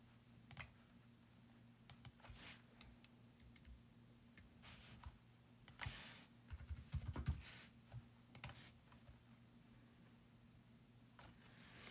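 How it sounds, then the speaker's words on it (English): Faint computer keyboard typing in the background, irregular light clicks and short flurries of keystrokes, a denser cluster of taps around the middle, otherwise quiet. "Sorry, you'll hear some typing and stuff in the background."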